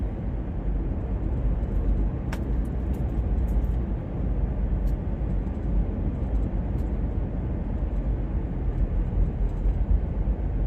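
A 2011 Honda CR-V XL being driven, heard from inside as a steady, loud low rumble of road and engine noise that continues without a break.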